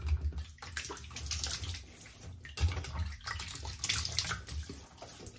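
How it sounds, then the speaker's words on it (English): Tap water runs steadily at close range while the face is wetted before a wet shave with artisan soap, a continuous splashing hiss with brief surges and small splashes as hands move through the stream. "let's wet the face,"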